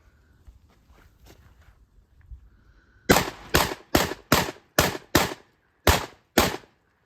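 A Beretta 1301 shotgun fires high base shells at a range: after a few quiet seconds of small handling noises, eight loud, sharp shots crack out at a steady, fairly quick pace, close to the listener.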